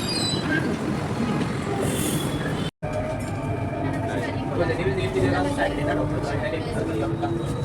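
Mumbai metro train heading toward Versova, a steady loud rumble of wheels and carriage with faint squealing, under a brief dropout and continuous voices talking.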